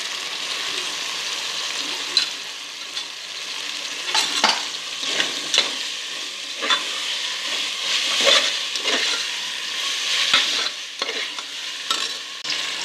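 Ingredients with chopped coriander sauté in a pan while a spatula stirs them: irregular scraping strokes and clacks over a soft continuous sizzle, close and moderately loud.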